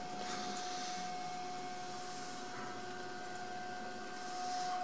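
A Buehler Isomet 2000 precision saw cuts through a sample, giving a quiet, steady mechanical whir with a sustained tonal hum and faint rising grinding at the end, with no speech.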